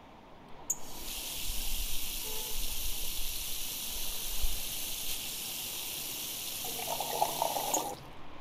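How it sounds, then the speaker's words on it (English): Tap water gushes from a kitchen sink faucet into a cooking pot, a steady loud hiss that starts abruptly, runs several seconds with a slight rising fill tone near the end, then cuts off. "I gotta fill the pot up with water. Where's the sink?"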